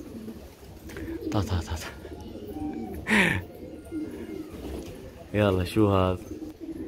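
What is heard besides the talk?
young pigeons cooing at their release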